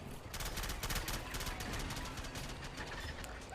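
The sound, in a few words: machine gun firing in Men of War Assault Squad 2 video game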